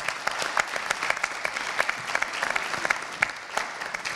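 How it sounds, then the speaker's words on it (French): Audience applause at a talk on business tools and networks in Africa, a steady crisp clapping from a full room that carries on evenly throughout. "on vous applaudit"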